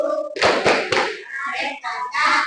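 Students in a classroom performing a rhythmic clapping pattern in unison: several loud group claps and slaps in quick succession, followed by softer patting and pattered hand sounds, with children's voices faintly mixed in.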